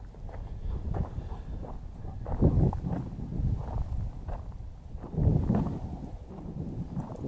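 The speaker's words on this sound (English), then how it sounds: "Wind through the trees sounds cool" Wind gusting through trees near a lakeside jetty before a blizzard, a low steady rushing that swells in two broader surges, soft and fairly distant, with no voices.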